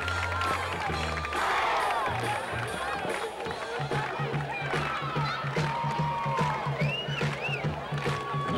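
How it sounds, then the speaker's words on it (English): A high school football crowd and marching band at a 1993 game, South Floyd versus Betsy Layne, with cheering, drums and brass rising under a commentator talking throughout. "Betsy Layne crowd and band, they're still in it."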